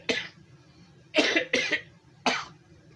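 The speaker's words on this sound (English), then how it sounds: "sorry, I tell you, having a cough a lot." Four sharp coughs from one nearby person, a single cough followed by a quick pair and then one more, with quiet pauses between.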